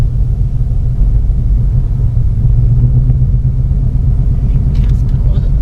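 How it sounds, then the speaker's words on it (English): Car engine under a learner driver's light throttle, a steady low rumble with a mild rise in revs, continuous and fairly close inside the vehicle, with voices talking over it. "give it just a little tiny bit of gas, and then get a feel for the gas pedal"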